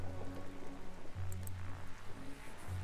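Steady rainfall at night in the Darkside Detective game, a constant patter on surfaces with a low humming ambience underneath, continuous and without talk.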